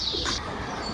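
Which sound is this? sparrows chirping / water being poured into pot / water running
sparrows chirping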